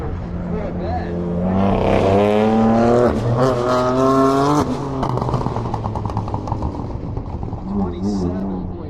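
A Corvette race car at an SCCA racing event roars past with a rising, sustained engine note, then fades away, under a background of other engine noise.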